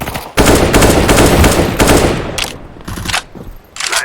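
Gunfire in the video game CS:GO, a loud rapid automatic burst close by followed by several shorter separate volleys.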